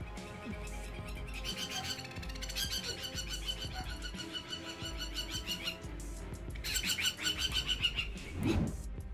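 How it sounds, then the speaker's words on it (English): An agitated bird calls in rapid, repeated chirps and tweets, loud and close, in sustained bursts that intensify toward the end, with no talk. "an angry bird."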